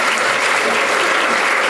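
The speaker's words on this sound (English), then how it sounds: "We have a round of applause for Dr. Rose." A burst of enthusiastic clapping from a sizable audience at an awards ceremony, dense and steady throughout.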